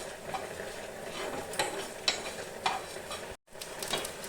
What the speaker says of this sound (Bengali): গরম মশলা, গোলমরিচ, ধনিয়া, জিরা, মৌরি, তেজপাতা, একটা শুকনো লঙ্কা আমি ভালো করে ভেজে নেব